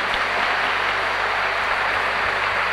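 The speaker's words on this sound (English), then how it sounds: "Please give them a big round of applause." Audience at an apprenticeship graduation ceremony claps for a set of graduates, a dense, loud, continuous roar of applause filling the whole stretch.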